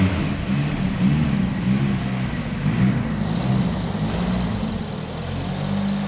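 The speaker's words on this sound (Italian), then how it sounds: "riproviamo a fare una seconda accensione, voglio sentirlo girare ancora" A restored Nissan Silvia engine runs steadily after being started again on a weak battery laid on the floor, giving a continuous low idle rumble at close range with no talking.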